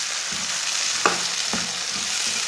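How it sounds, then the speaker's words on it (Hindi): Chopped tomatoes with green chillies and garlic fry in a pan, a bright close hiss with a couple of soft stirring knocks, no voices. "2-3 मिनट के लिए भून लेना ताकि हमारे टमाटर अच्छी तरह पक जाएं।"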